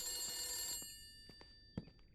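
An in-game telephone bell in The Beast Inside rings in a sustained, loud burst with bright harmonic tones, then stops, leaving faint scattered clicks and a brief thump in a quiet room.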